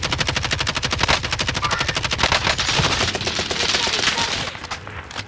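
Rapid automatic gunfire from a video game rattles in continuous loud bursts for about five seconds, then eases off slightly at the end.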